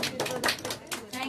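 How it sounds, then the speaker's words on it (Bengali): An audience claps in quick, dense bursts at a Bengali actress's birthday event, a short round of moderately loud applause. "একটু জোরে হাততালি হোক"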